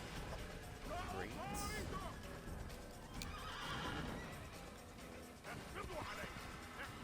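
Horse in the Assassin's Creed video game whinnies over clip-clopping hooves and mechanical game sounds, faint and mixed among other effects while people talk.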